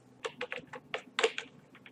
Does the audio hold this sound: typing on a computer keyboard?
yes